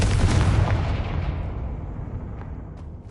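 Confringo spell explosion in the video game Hogwarts Legacy, a loud deep blast that rumbles and decays slowly over a few seconds.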